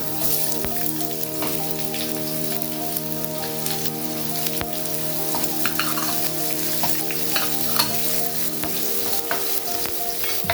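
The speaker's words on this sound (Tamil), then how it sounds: "வெங்காயம் போட்டுக்கோங்க" Onions and garlic frying in hot oil for a simple potato fry, a continuous crackling sizzle close up, dotted with light spatters and occasional stirring taps for the whole stretch.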